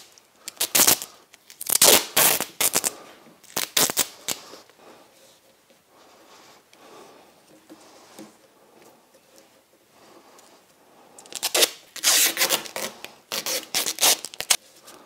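Strips of tape are torn and pressed on while making a bookend: rapid bursts of ripping and crackling come in clusters near the start and again near the end, with quieter handling between.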